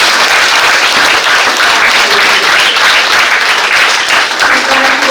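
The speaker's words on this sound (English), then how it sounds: "Let's give them a big round of applause." A crowd at a spelling bee breaks into loud, dense applause that carries on steadily throughout, with no voices audible above it.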